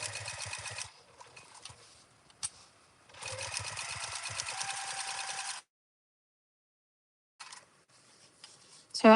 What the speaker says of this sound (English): So I am sewing at 1/8 of an inch seam allowance.